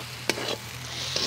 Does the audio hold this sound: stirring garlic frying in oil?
yes